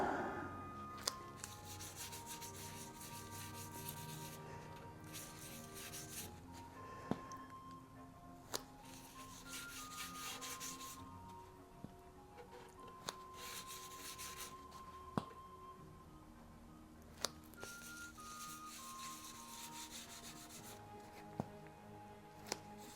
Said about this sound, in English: I'm just going to put the Danish oil on and just rub it on.